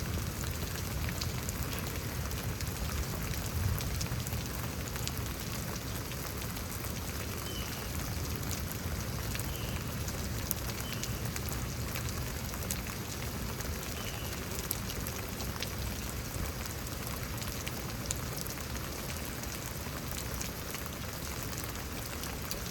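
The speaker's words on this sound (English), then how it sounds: "I'll say like this amount of rain, this is reasonable." Moderate rain falls steadily in Houston, Texas, a soft continuous hiss with scattered drop patter and no other sounds.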